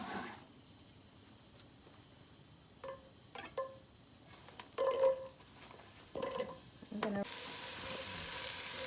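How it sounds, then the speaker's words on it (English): Onions are tipped into a hot pot and begin to sizzle, with a few scattered clinks and stirring taps before a steady, louder frying hiss takes over near the end. "now we're gonna go in here and add our onions"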